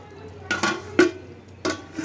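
A metal pot of mutton curry is lifted off a wood-fired clay stove, giving several sharp metallic clanks and scrapes in an irregular pattern, close and fairly loud.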